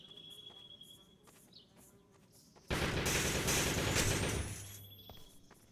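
Video game gunfire from an Shadowrun esports match, a loud automatic burst of rapid shots lasting a couple of seconds shooting through a fence, set against a faint steady electronic tone and ambient game noise.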